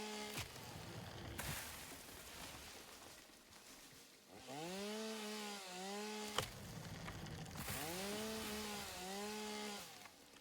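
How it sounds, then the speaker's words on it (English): A chainsaw in the factory-building video game Satisfactory cuts down trees, its engine rising and falling in repeated revving bursts over a steady mechanical drone, with sharp crashes of wood marking each felled batch. "that's the chainsaw"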